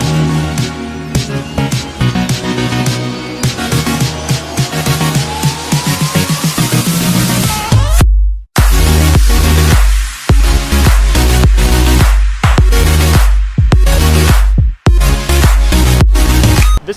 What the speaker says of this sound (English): This is a compound turbo truck.